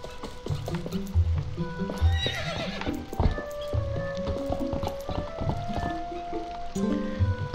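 Hooves clip-clop steadily as a horse in The Legend of Zelda: Twilight Princess HD moves about, with a neigh and scattered dripping and squishy game sound effects around it, all at moderate volume.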